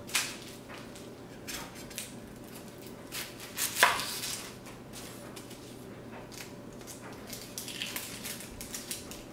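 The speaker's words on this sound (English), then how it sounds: "let's cut the onion" Knife chopping an onion on a cutting board for Genoese focaccia, a few scattered close cuts with one sharper knock near the middle, no talking.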